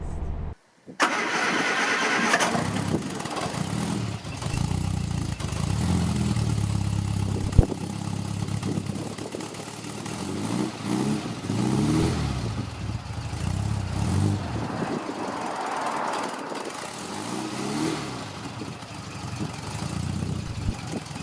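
A classic car engine starts and runs steadily, a mid-pitched rumbling drone that surges and settles as the car drives along, fairly close and alone without voices.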